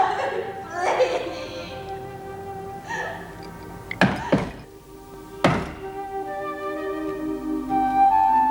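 Two sharp, heavy knocks strike a door several seconds apart, loud and close, while someone speaks emotionally before and after them.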